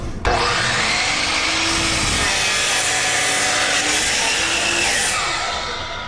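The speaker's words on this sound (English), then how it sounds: "So as I bring the saw down, my mark should be on this side of the blade because this is my good side. And we'll cut this off." A power saw cuts through a wooden board for a face frame, giving a loud, continuous whining, buzzing cut that holds steady for several seconds and then winds down.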